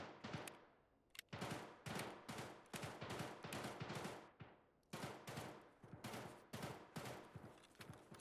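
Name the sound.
distant gunfire in the video game Escape from Tarkov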